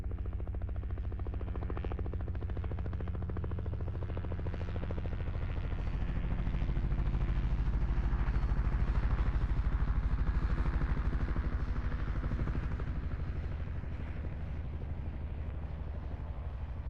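A Bell 206 helicopter in flight, heard from off its right side, gives a steady, loud rotor and engine roar with a low throbbing beat that swells slightly in the middle and runs continuously with no voice.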